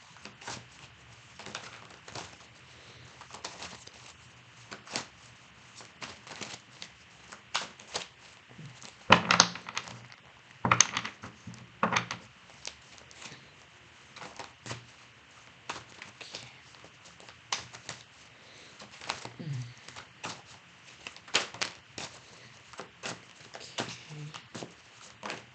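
Tarot cards shuffled and handled during a reading, soft riffling, slapping and crinkling taps scattered through the whole stretch, close and fairly quiet, with a few sharper bursts in the middle.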